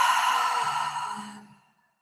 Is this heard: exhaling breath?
yes